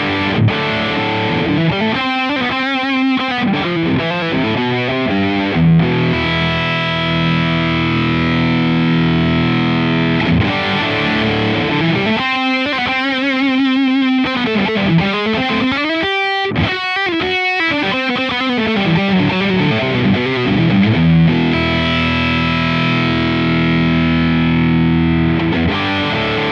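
A dark, heavily distorted high-gain electric guitar tone from the ToneX collection plays loud, chugging riffs and sustained chords. It has short stops and choppy stabs midway and no talking.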